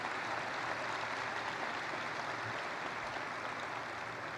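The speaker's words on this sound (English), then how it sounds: "I know you guys are clapping for her" An audience at an aerospace engineering commencement clapping steadily, a continuous wash of applause that is fairly faint and distant with no voices over it.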